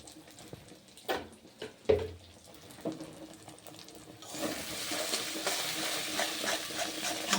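Pea filling for matar kachori being stirred in a pan after sugar is added; a few spoon knocks and scrapes, then a steady moderate sizzle takes over.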